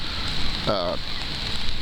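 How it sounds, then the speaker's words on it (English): Rain falls in a steady, hissing wash throughout, with a brief voice-like tonal sound rising over it for a moment near the middle. "Then we're getting all this rain."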